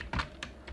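A few quick, soft keystrokes tap on a computer keyboard while a file name is entered in Photoshop, three light clicks in under a second, close and fairly quiet with no voice.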